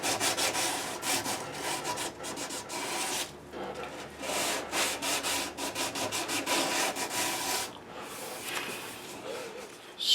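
Hand sanding of a classical guitar fretboard with 400 grit sandpaper during a re-fret, rapid back-and-forth scratchy strokes in uneven bursts with short pauses, fairly close and moderately quiet.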